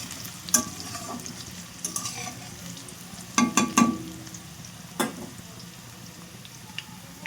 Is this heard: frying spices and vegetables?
yes